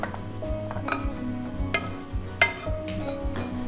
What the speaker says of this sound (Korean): 약간 이제는 볶듯이 수분을 날려주시면 돼요